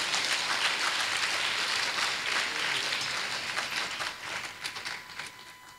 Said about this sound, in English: Shall we do the applause again, please?